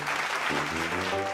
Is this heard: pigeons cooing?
no